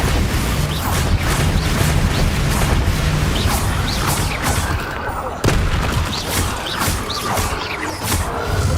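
A Bombarda explosion spell from the video game Hogwarts Legacy erupts in a loud, booming blast amid dense, crackling combat noise and rumbling debris.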